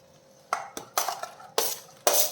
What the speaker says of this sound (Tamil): இப்போ வந்து நம்ம மாங்காவை சேர்த்துடலாம்